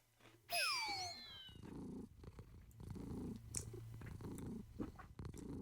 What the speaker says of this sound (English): Catch CATO snoring during idle.